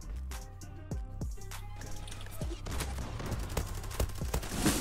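Rapid bursts from a Glock 18 pistol in the online shooter Zula, sharp repeated shots rattling quickly over busy game noise, growing denser toward the end.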